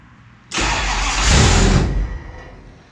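A car engine with newly wired HEI ignition catches on its first start, a sudden loud burst that settles into a steady, rough idle for over a second before dropping away, heard close and alone.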